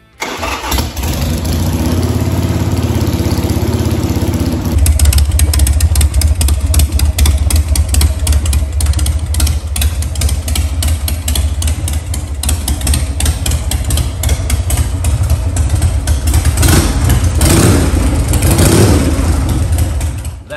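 Harley-Davidson Sportster with loud drag pipe exhaust, a starter whir followed by the engine firing into a loud, deep, continuous idle with occasional revs.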